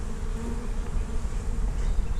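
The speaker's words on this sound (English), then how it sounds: "Yeah, we got some bees in here" Honey bees hum in a continuous, dense drone inside a cutout in a second-story floor, sounding close and steady.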